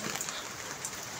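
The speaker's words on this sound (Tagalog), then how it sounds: "Tuloy-tuloy ang ulan, pero mahina." Light, steady rain falls continuously, making a soft, even hiss with no talking.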